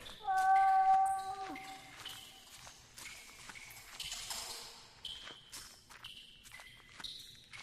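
In the game The Last Door, a single clear meow from a cat behind a wall sounds early, then quiet clicks and footsteps with a few soft ringing tones follow in an otherwise hushed space.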